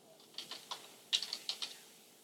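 Typing on a computer keyboard while entering wiki text, a quick run of soft key clicks in two short bursts, fairly quiet and close, with no talking.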